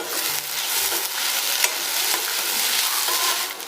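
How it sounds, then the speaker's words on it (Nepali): Finely chopped garlic fries in a pan with a continuous close sizzle, overlaid by scraping stirs and small clicks of the spoon against the pan. "अब मैले मसिनो गरी काटेको लसुनलाई हालेर एकछिन चलाए"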